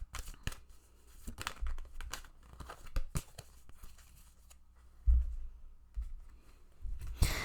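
Oracle cards are handled and shuffled close by, with crisp riffling, card slaps and papery crinkles in uneven bursts separated by short quiet gaps.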